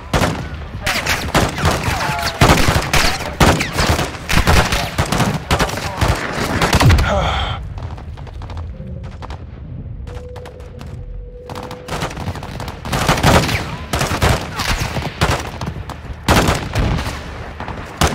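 Dense gunfire and rapid machine-gun bursts fill a gun run during a Modern Warfare II campaign battle. The shooting is loud and near, pauses briefly midway under a faint steady hum, then resumes in heavy repeated volleys.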